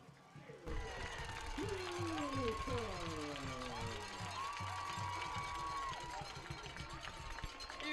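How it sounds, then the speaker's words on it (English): A high school varsity football crowd at Kavanaugh Stadium roars and applauds after a fourth-quarter Vikings touchdown, a steady dense cheer with rising and falling pitched whoops or horn tones over it and a voice talking underneath. "You can hear the thunderous applause from the Kavanaugh Stadium."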